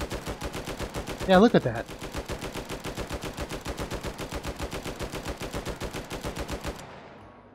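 Rapid automatic gunfire from a gun in the VR game Hot Dogs, Horseshoes & Hand Grenades, a steady fast string of close, loud shots lasting several seconds before stopping, with a short burst of speech over it early on.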